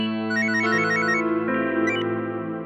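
Phone ringtone for an incoming call, a bright melodic electronic tune with layered chiming notes repeating steadily and clearly, alone without talk.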